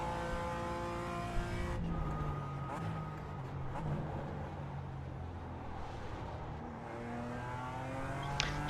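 A race car engine in a sim racing game drones steadily at high revs, its pitch shifting as the car brakes and accelerates, loud and continuous throughout with a voice speaking over it at times.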